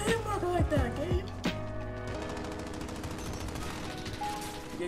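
Gunfire in a Call of Duty match, a few sharp shots near the start cutting through an ongoing game soundtrack with speech-like voices and tonal effects.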